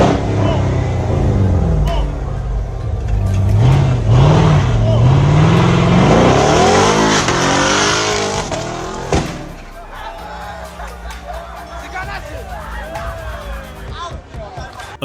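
Car engine revving hard while doing donuts, a loud rising and falling engine note with tire noise for the first nine seconds, then quieter engine sound with voices talking nearby.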